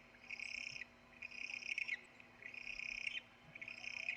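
Owls call in four long, even, hoarse screeching phrases separated by short pauses, fairly faint over a quiet background with a low steady hum.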